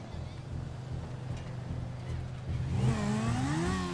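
A car driving in GTA V during a chase after a limo, a steady engine rumble with rushing wind that builds into a rising rev as the car accelerates, with some voice activity mixed in.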